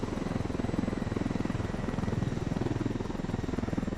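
Helicopter in the video game Ghost Recon Wildlands flying in to land, a steady loud rotor chop with dense rhythmic thumping and engine whine throughout, no talk.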